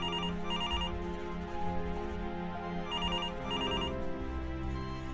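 A telephone rings in two short repeated bursts of trilling tones, one near the start and one near the middle, over a steady sustained tonal bed in an audio-visual installation.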